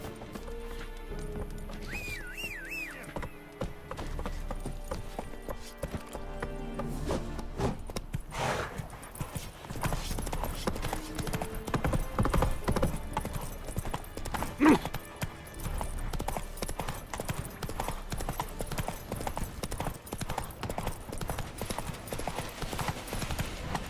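Roach the horse's hooves clip-clop steadily in The Witcher 3: Wild Hunt, a continuous rhythmic gait with an occasional neigh, heard amid game ambience and effects.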